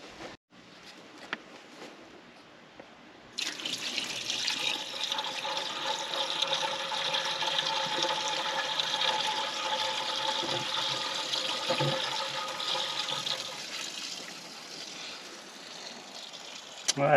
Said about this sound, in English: Let's put some water in it first.